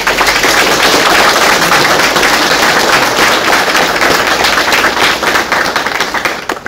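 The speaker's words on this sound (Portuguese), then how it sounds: "Vamos dar as boas-vindas ao Leonardo com uma salva de palmas." An audience applauds to welcome a speaker named Leonardo at a talk on failure analysis of steel parts, with loud, dense clapping sustained throughout that thins slightly toward the end.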